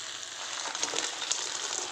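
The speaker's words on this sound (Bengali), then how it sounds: "এবার দিয়ে দেবো ভেজে রাখা কাঁকড়া।" Pre-fried crab goes into a hot pan, giving a brief, close hiss of frying that swells slightly as the pieces land, with no voices.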